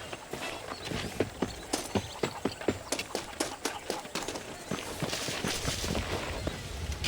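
Horse hooves clip-clop in a steady riding rhythm in the Red Dead Redemption video game, a run of distinct, fairly close hoofbeats over a continuous outdoor background hiss.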